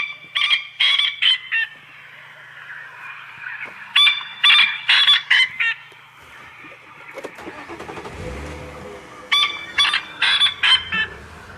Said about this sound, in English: But here's the sound of the coqui francolin.